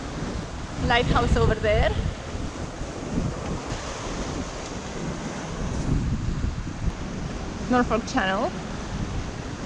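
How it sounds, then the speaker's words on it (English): Strong wind against tide roars over a Hallberg-Rassy 54 sailing yacht near Norfolk Channel on the Chesapeake, with steady rushing gusts and wave wash throughout; someone speaks briefly twice over it. "Strong wind against tide here."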